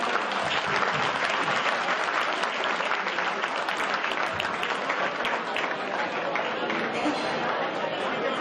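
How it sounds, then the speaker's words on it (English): A banquet audience applauds in a dense, sustained wave of clapping that runs steadily for several seconds, with crowd chatter mixed underneath. "please give a loud round of applause by Lynn and Robert."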